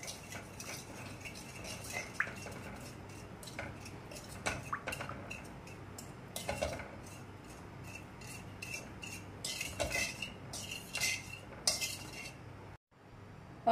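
A spoon mixes methi powder and chilli powder into oil for a Bhokar (gunda) pickle, giving repeated close clinks and scrapes of metal on a bowl in irregular bursts over a quiet background, with no voices.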